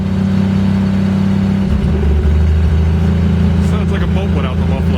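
A Ford vehicle with a narrowed 8.8 rear axle runs loud and rough like an unmuffled boat engine, a deep droning rumble that shifts pitch partway through, with faint voices near the end.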